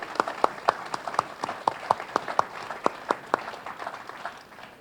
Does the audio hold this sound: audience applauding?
yes